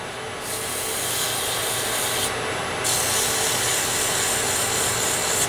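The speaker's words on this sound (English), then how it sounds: "And I'm going to sand, keeping the paper moving constantly." A pen is sanded with 180 grit sandpaper kept constantly moving, giving a continuous close, even rasping rub that runs unbroken for several seconds.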